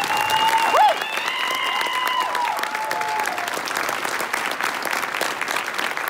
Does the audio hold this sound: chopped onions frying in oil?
no